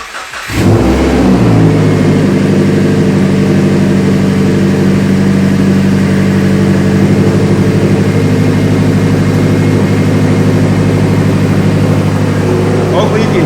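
A 2014 Subaru WRX with a full exhaust fires up from cold with a sharp start and a burst of revs, then settles into a loud, steady, close-up high idle, with a voice speaking over it.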